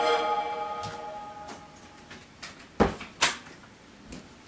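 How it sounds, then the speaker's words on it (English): An indoor door is pushed shut with a few knocks and clicks: scattered light taps, then two sharper thuds close together near the end, in a quiet room. "Just close the door so no one will disturb"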